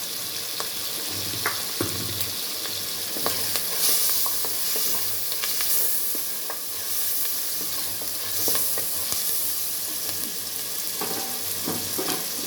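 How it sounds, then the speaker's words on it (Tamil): Curry leaves and green chillies fry in hot oil, giving a continuous bright sizzle and crackle with occasional stirring clinks, close and fairly loud, and nobody speaking. "இப்போ நல்லா காஞ்சிச்சு கருவேப்பிலை சேர்த்துக்கலாம் பச்சை மிளகா சேர்த்துக்கலாம்"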